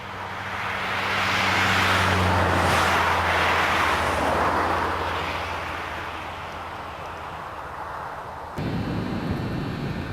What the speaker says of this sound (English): you can just hear the rumble of traffic